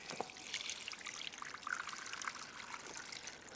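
Water is poured into a pollinator water dish filled with stones, making a continuous trickling splash at close range with no voices over it.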